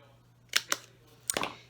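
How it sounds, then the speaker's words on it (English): A hole punch bites through trimmed paper cardstock in a few sharp, close clicks and crunches, a pair of quick snaps followed by a longer crunching punch, with a low steady hum underneath. "And then punch that hole."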